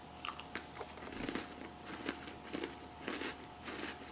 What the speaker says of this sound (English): this is the first official taste test for the cookie butter Oreos